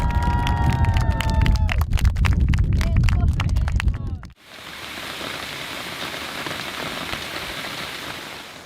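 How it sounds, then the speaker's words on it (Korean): Summer rain pours steadily at a Buddhist temple, a dense even hiss that begins abruptly after a louder opening passage with voices and tonal sounds, then continues alone. "모처럼 여름 더위를 식혀주는 비가 내립니다."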